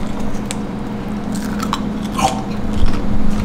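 Someone munches a crunchy snack on a coffee promo shoot: a few sharp, close bites and crunches, strongest near the end, over a steady low background hum, with no talking.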